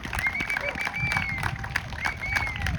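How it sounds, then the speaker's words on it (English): A crowd at a parents' demonstration claps and cheers in a steady wash, with piercing whistles rising above the noise several times. The sound is moderately loud and continuous. "I want an applause for all of us"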